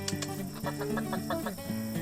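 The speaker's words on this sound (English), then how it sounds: "These chickens are pretty friendly." Several chickens cluck and murmur close by in short, overlapping bursts, a busy soft chatter with no talking.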